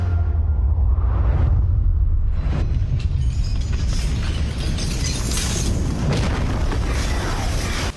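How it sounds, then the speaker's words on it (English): Explosion on set during the Museum of Gold attack scene in Money Heist, a loud deep rumbling boom that swells and then settles into a sustained roar with debris noise throughout. "That's just another explosion."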